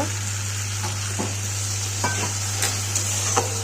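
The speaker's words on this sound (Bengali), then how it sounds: "মশলাটাকে ভালো করে কষিয়ে নেব।" A spice paste of ginger, garlic, cumin, chilli and turmeric powder sautés in a pan with a little water, sizzling steadily up close while a spoon stirs and scrapes it in several short strokes.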